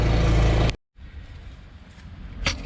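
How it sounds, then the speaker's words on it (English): A loud air compressor runs close by in a garage, powering work on a Bronco exhaust. It cuts off abruptly, then a quieter rumbling background follows with a brief clank near the end. "Sorry for the compressor noise, but that's what I'm using for electricity."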